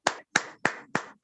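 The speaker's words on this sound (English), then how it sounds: "You can use the clap emoji or just clap as I welcome into the virtual lectern." Five sharp claps in an even rhythm welcome a speaker at a virtual Toastmasters meeting, close and distinct with brief silences between them.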